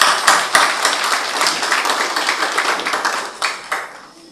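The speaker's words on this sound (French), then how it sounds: "si vous pouvez l'applaudir encore une fois" A conference audience at a digital expo claps, a close, lively burst of many hands with a few sharp individual claps standing out, thinning toward the end.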